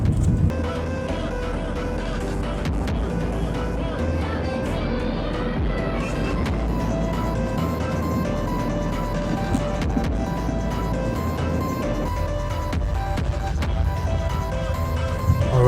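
Steady interior road noise from a car driving on a delivery run, a continuous broadband rumble and hiss holding at an even level for the whole stretch, with no pauses.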